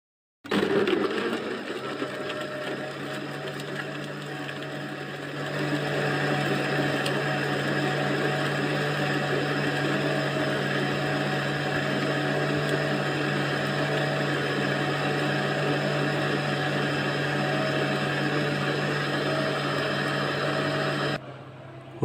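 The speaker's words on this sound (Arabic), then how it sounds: "وهنضرب كل المكونات دي في الخلاط" An electric blender whirs through iced caramel macchiato ingredients with ice, starting with a brief rough crunch, then settling into a loud, steady motor drone that runs for about twenty seconds before cutting off abruptly.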